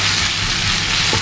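Onions with ginger-garlic paste sauté in a pan for kadai chicken, a steady, close, broadband sizzle of frying that runs unbroken throughout, with faint stirring underneath.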